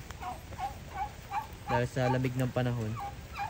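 Rhode Island Red hens on a small farm flock cackle in a series of clucks that build to a louder, drawn-out squawk, close by, over a brief stretch of speech.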